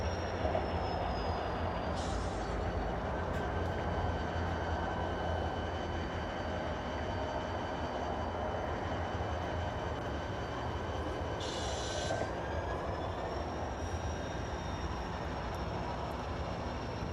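A model train engine runs along a branchline layout with a steady, low mechanical rumble and wheel noise, and two short squeals come through during the run.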